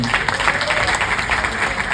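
At a live stand-up comedy show, a crowd gives a loud round of applause for a guest's mother, dense continuous clapping close by with crowd noise mixed in.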